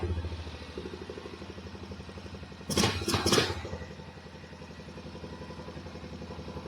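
A quad ATV engine idling with a steady, fast low putter, close and fairly quiet, broken briefly by a short burst of clattering noise midway.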